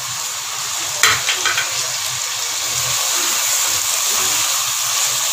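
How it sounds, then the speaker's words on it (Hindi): Tomato and green chili paste fries in a pan with a steady, loud hiss and sizzle, interrupted by a few brief scrapes of stirring near the start, close and continuous with no voices. "इसकी भुनाई करेंगे टमाटर और ग्रीन चिली के पेस्ट के साथ।"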